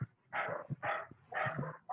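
A dog barks four times in a steady rhythm during an online meeting, fairly faint and somewhat distant, with short gaps between the barks.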